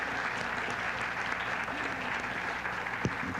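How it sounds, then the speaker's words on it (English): An audience at a public safety forum in Minnesota gives a round of applause, a soft, steady wash of clapping heard from a distance, faint and even, with a single louder knock near the end. "Let's give him a round of applause."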